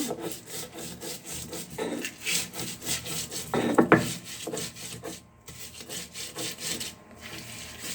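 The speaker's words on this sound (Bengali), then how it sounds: "প্রথমে আমি মরিচ রসুন পেঁয়াজগুলোকে ডলে নিব" Chillies, garlic and onion are crushed and rubbed on a stone grinding slab, making a steady run of gritty scraping strokes, close and fairly loud, that ease off briefly near the end.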